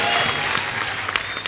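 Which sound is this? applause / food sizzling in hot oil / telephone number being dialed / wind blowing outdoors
applause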